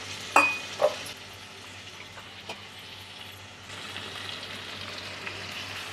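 Ground masala paste sautéing in a pan makes a soft, continuous sizzle close by, opening with two sharp metallic clinks from a utensil, then a low steady frying hiss.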